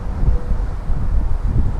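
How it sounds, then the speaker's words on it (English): Wind rumbles against the microphone in low, steady gusts, a muffled roar with no voices. "it's a little bit windy here"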